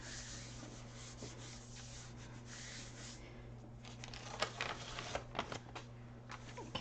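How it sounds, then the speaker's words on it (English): Paper rubbed down by hand onto a Gelli plate print, a soft continuous scratchy rubbing that runs throughout, growing busier with sharper brushing strokes toward the end, close and fairly quiet over a steady low hum. "you're going to rub those down just like you would be pulling a single print"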